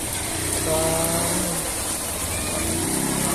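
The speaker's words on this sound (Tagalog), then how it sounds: "namatay-matay na yung motor" A motorcycle engine sputters and struggles in flood water on a street, uneven mid-pitched revving that rises briefly then sags, set against a steady background wash of water and rain.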